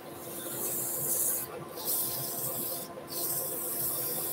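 Abrasive paper rubs against a wooden sun hat box lid spinning on a lathe, making a steady, close hissing scrape that runs almost continuously, broken by two brief dips.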